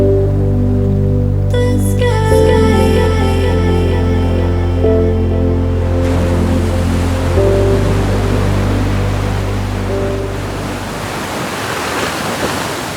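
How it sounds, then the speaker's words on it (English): Ocean waves wash onto a tropical beach in Sri Lanka, a steady, loud roar of surf that fills the scene, with sustained musical tones beneath it at first. "it was time to relax to the sound of Mother Nature's waves"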